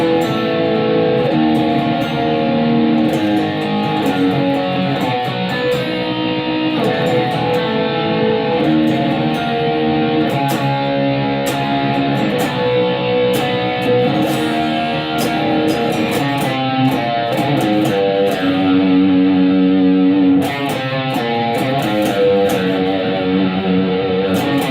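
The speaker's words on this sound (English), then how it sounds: "Next up I've got my heavy distortion sound, but also a semitone down" Heavily distorted electric guitar, tuned a semitone down, plays a steady, dense chord riff from a song's chorus, loud and continuous throughout with no voices.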